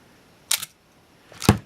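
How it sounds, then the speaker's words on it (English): A Canon A-1 film camera fires its shutter on bulb setting: a sharp mechanical opening click, a short silence of about a second, then a second louder closing clack, close and alone. "So the shutter seems to be working well."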